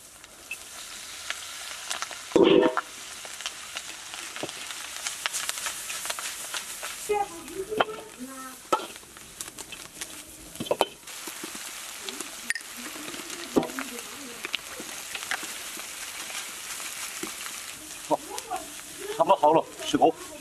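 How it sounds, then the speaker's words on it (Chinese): Chili peppers and onion hit a hot wok with fragrant bean paste for Sichuan twice-cooked pork, giving a loud sudden sizzle followed by steady frying crackle and scraping stirs, close up, with brief speech. "豆瓣炒香了，现在我们把海椒和洋葱倒下去。"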